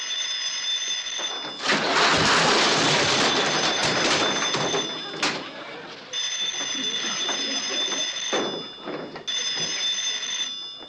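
An old-fashioned telephone bell rings in long bursts separated by short pauses, loud and close, with some rustling between rings.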